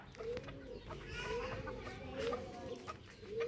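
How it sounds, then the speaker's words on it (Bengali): Domestic backyard hens cluck close by in repeated short rising calls, with faint background noise and no talk. "এই তো আমাদের আরো মুরগি,"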